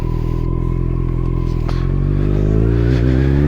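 A Kawasaki Z800 motorcycle pulling away, its engine rumbling loud and close in a deep steady drone, pitch climbing slightly as it accelerates, with a brief clatter partway through.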